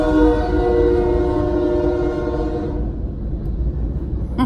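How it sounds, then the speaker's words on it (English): A train passes close by with its horn sounding loud and sustained over the rumble of rail cars, then the horn cuts off and the rolling noise continues alone. "I like the sound of a train"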